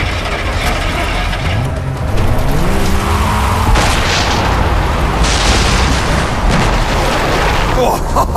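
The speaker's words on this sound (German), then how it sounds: "Hast du die Explosion gesehen?" A deep, booming explosion in the video game Far Cry 3 rumbles over continuous game noise with mechanical clanks and vehicle engine hum, fairly loud throughout.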